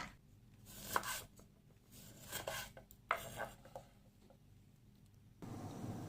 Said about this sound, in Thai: จากนั้นเราก็มา หั่นเป็นชิ้นนะคะ